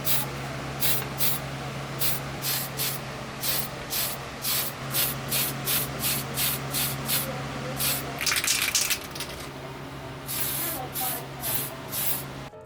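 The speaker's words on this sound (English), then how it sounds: "And now I can spray paint it, or airbrush it with reckless abandon." Short bursts of spray paint hiss rhythmically onto 3D printed lightsaber parts, about a dozen evenly spaced squirts with a steady hum beneath, then a longer spray near the end.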